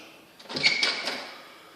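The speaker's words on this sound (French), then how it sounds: "on ouvre la porte de C11." A door of an apartment unit swings open with a short scraping, rattling sweep that rises and fades over about a second, close by in a quiet hallway.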